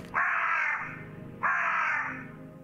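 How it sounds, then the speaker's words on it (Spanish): A bird caws twice in the survival video game Green Project, with two loud, harsh, nasal calls about a second apart, each trailing off over faint background sound. "Ojo, que viene el pájaro."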